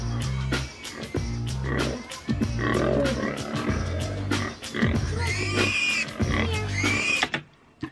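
A sick pig lies in a barn stall, grunting and oinking loudly at close range in repeated snorts and low calls, with other animal noises and brief bursts of activity mixed in.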